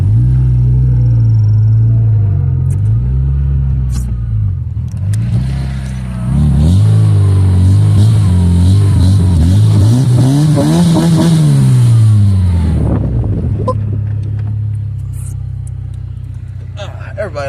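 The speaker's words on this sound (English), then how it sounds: "Everybody likes a little bit of wheel spinning." A minivan engine revs hard in reverse as its wheels spin, a loud, steady low rumble that rises and falls in pitch through repeated revving swells before settling, with a voice briefly heard over it.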